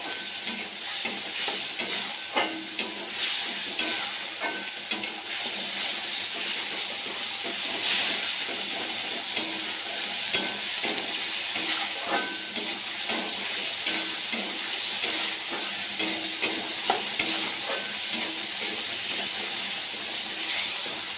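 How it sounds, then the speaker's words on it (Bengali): Spice masala for a vegetarian chana dal fries in a pan with a constant hissing sizzle, broken by regular spatula clicks and scrapes against the pan. No one speaks. "মশলাটাকে খুব সুন্দর করে কষিয়ে নিতে হবে।"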